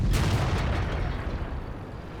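Artillery fires in World of Tanks during a T-54 match, a single deep booming blast that rolls out and fades slowly into a low rumble.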